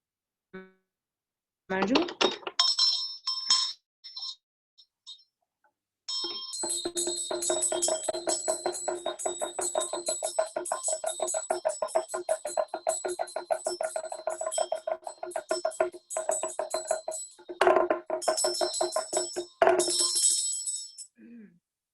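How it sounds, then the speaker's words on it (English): Tibetan ritual bell and damaru hand drum played in a ritual chant session: after a few sparse rings, a long run of rapid, rhythmic rattling drum strokes with bright bell ringing continues for most of the clip, ending in renewed bell tones. "Okay, Bell and Damaru."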